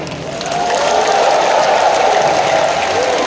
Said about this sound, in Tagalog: Kayo yung palakpak niyo.